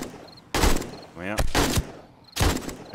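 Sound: controlled bursts of gunfire in the video game 7 Days to Die

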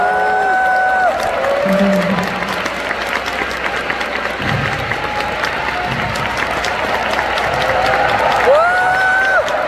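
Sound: long audience applause at a concert

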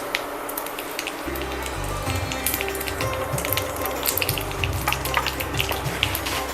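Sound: cumin and asafoetida sizzling in hot oil

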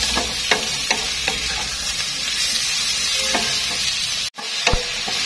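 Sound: stir-frying mushrooms and tofu in a pan

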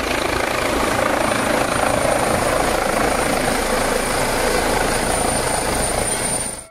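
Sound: toy helicopter sound

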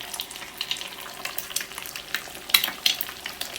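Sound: beaten egg omelette frying in pan

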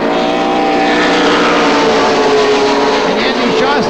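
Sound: stock cars racing at Oxford Plains Speedway

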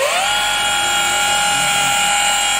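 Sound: polishing machine applying wax to car panel

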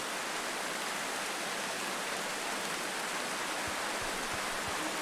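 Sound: rain in a video game

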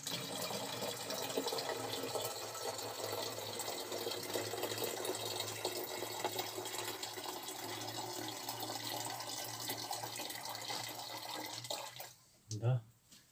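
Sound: pouring water into bottles

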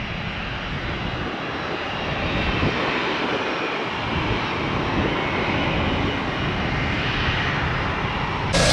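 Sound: Delta MD-88 jet aircraft taking off

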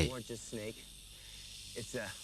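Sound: western diamondback rattlesnake hissing

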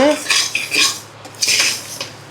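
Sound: rice being roasted and stirred in a pan

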